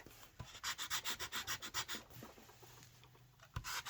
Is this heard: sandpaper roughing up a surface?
yes